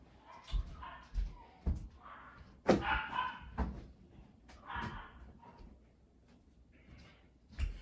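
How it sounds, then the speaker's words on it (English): Pet dogs bark in short, scattered bursts, a handful of sharp woofs spaced a second or so apart, with thumps and a door-like slam in the room. "You might hear my dogs bark because my parents are leaving"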